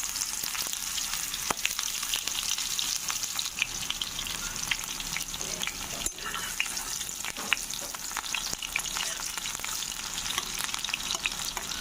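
Onion and green chillies frying in hot oil in a wok make a loud, continuous crackling sizzle with frequent sharp pops and occasional stirring scrapes, close up and with no talking.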